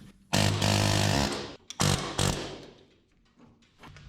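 An air hammer works on the front suspension of a 1979 Chevy Luv truck to separate the parts, firing in two loud, harsh rattling bursts, the first about a second long and the second shorter, before dying away to quiet.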